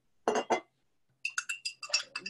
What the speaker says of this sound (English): We stir that up.